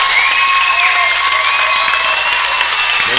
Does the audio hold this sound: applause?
yes